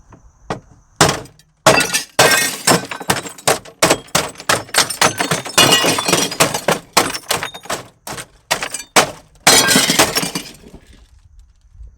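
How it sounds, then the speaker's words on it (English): A glass window is struck again and again with a Bell and Howell Tac Pen tactical pen, giving many loud, sharp close cracks and clinks in an uneven rhythm, ending in shattering and tinkling glass fragments. "you can break through glass with the Tac Pen"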